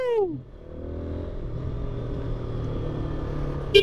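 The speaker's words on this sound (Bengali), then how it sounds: "বাইকটা যতবার থ্রোটল দিবেন ততবার তার সাউন্ড আপনাকে মুগ্ধ করবে।" An adventure touring motorcycle engine runs with a steady, close low rumble after a brief tonal sound at the start, with no clear throttle revs.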